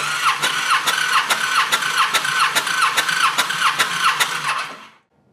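Starter cranking a 2009 Honda VTX1300T V-twin motorcycle engine with the throttle held wide open during a compression test, a loud, close, steady rhythmic chugging of about a dozen even compression pulses that cuts off abruptly after roughly five seconds.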